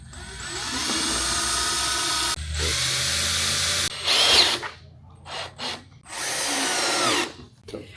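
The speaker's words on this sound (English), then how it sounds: "I'm going to go ahead and drill these into the actual shelf" A power drill drives screws into a wooden shelf on an upcycled vintage frame, whining loud and close in long bursts with brief stops and short revs between them.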